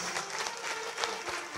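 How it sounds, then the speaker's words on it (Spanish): Brief, fairly faint clapping from a group at a 50th birthday celebration, an uneven patter of hands lasting just over a second. "¡Fuerte las palmas!"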